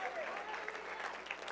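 Church congregation applauding during a service, a dense, steady patter of many hands clapping with voices mixed in, moderately distant.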